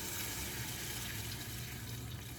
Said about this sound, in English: rinse it with some water and add it to the pot.